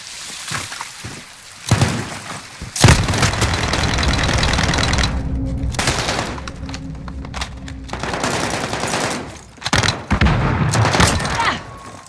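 Call of Duty gameplay with sustained automatic gunfire in bursts, loud and dense, broken by short pauses and sharper single shots.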